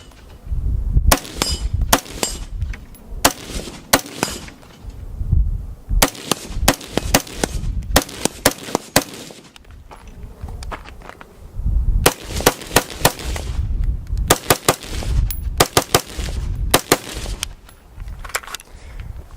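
An Aero Precision M4E1 rifle is fired outdoors in bursts of sharp, loud shots, clusters of rapid reports separated by short pauses, close and punchy.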